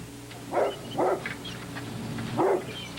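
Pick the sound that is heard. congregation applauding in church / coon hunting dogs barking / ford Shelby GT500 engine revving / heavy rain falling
coon hunting dogs barking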